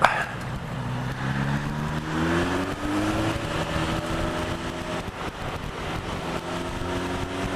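A motorcycle laps a petrol station forecourt, its engine droning steadily and rising in pitch as it pulls away, close and continuous.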